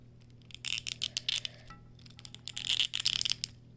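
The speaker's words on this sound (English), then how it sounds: "that's the sound of a very untouched joint" The stiff, little-used tail joint of an S.H. MonsterArts Godzilla figure clicks and ratchets as it is moved, with quick bursts of crisp plastic clicks, a short pause, then another dense run of clicks, close and fairly quiet.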